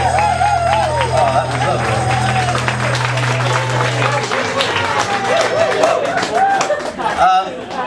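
Audience at a boys' club show applauds, a steady wash of clapping and crowd noise, loud and sustained, with some background chatter mixed in.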